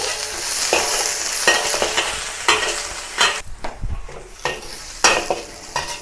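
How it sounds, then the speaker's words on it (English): Garlic, ginger and the white parts of spring onion crackle in a hot wok, with a steady sizzle broken by repeated sharp spatula scrapes and clanks against the pan, close and without voices. "stir fry all these aromatics until it's fragrant"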